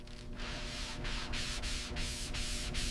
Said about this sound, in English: Hours of sanding.